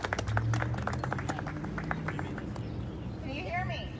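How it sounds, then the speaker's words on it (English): Audience applause with scattered claps and cheering at a live political event in Chicago, with a moderately loud, steady crowd texture throughout and a voice woven through it. "big round of applause, everybody"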